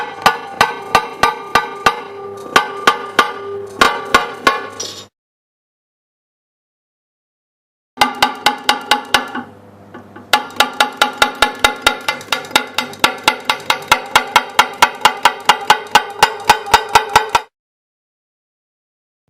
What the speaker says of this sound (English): the cut opener is repeatedly used in all 4 corners